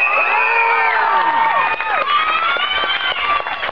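An audience of about 600 people on board the Golden Princess cruise ship cheers and whoops loudly, with high shouts and whistles rising together and a few claps underneath.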